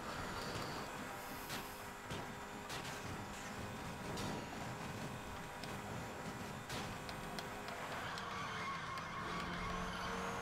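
Engine roar and tyre noise from a car drifting on off-road tyres in a racing video game, with steady revving and scrubbing skids running continuously throughout.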